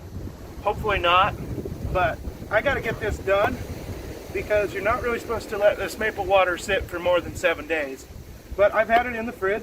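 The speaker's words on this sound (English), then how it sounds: "I want to sincerely apologize for the wind." Strong wind buffets the microphone outdoors on a stormy, gusty day, a low rumbling roar running steadily underneath someone talking near the camera throughout.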